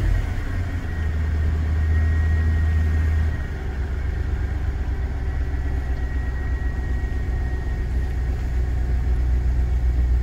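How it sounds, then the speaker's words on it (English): A half ton pickup truck engine idles steadily and loudly, a low rumbling hum with a heavier throttle-raised drone for the first few seconds before settling back to a smooth idle. "The engine is running, but I don't have any gauges."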